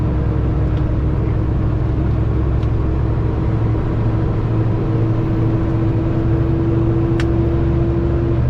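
A vehicle engine labors up a long steep hill in the mountains of North Carolina and Tennessee, a loud, constant low drone and rumble with a steady whine held throughout, no talking.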